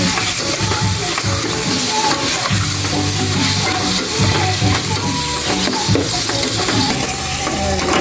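Food sautéing in a pan with steady stirring and sizzling throughout, loud and close, with clattering spoon scrapes layered over a dense frying hiss and no talk.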